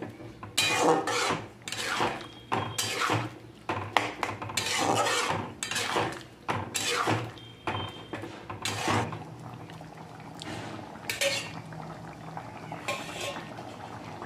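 Chicken gizzards being stirred with vegetables in a pan, with repeated scraping and rubbing strokes of a utensil against the metal in uneven bursts, louder early and fading to a low sizzle.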